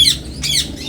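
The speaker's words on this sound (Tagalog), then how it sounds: "isa siyang reverse wing pouter" Reverse wing pouter fancy pigeons give two loud, harsh squawking calls up close over a low rumbling background.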